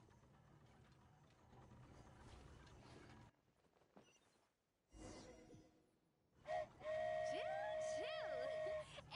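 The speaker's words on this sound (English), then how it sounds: "Choo-choo! Aerial Express moving out." A steam-style train whistle from the flying Aerial Express in the video game Genshin Impact sounds loud and sustained near the end, following mechanical clanking and game ambience.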